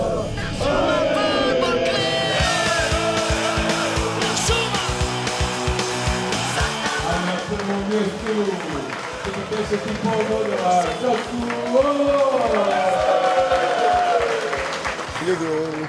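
A pub crowd of Hajduk football supporters roars and chants together, loud and sustained over layered music, with cheering swelling toward the end.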